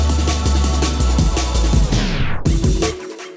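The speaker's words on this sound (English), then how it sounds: "I use a plugin called Deep Blue Tape Stop to make it do the pziu" A tape stop transition made with the Deep Blue Tape Stop plugin on a 90s jungle-inspired track: the loud full mix of drums and bass abruptly slows and sinks in pitch near the end, then a brief silence.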